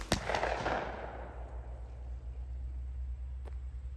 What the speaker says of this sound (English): You shoot that gun very well.